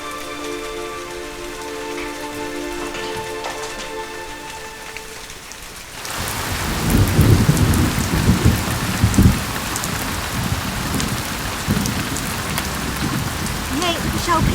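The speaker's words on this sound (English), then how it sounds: "It's raining" Steady heavy rain falls on surfaces with low rumbling that suggests thunder, loud and continuous after a brief stretch of tonal music.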